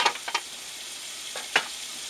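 Scallops, tomatoes, mushrooms and bacon fry in a pan while cooking in a truck cab, giving a steady faint sizzle broken by a few short bursts of stirring and spatula scrapes.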